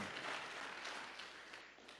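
A church congregation claps for Jesus during a Spanish-language worship service, a steady wash of many hands that stays faint and distant for the whole stretch.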